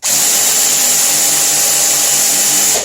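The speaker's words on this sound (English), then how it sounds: "You just do some minor drilling." Power drill boring out a stubborn brake rotor screw, a loud continuous high-pitched whine held steady for a few seconds close up, alone without talk.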